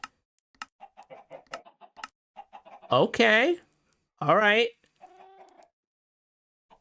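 Mighty Ender Chicken in the modded video game FTB StoneBlock 4, giving two loud, close clucking bursts amid faint blocky game clicks, with brief speech nearby.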